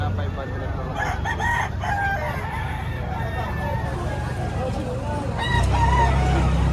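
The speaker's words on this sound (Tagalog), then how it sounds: "Ganda manok nito." A rooster crows repeatedly over a steady background of crowd chatter and other birds, fairly close and loud.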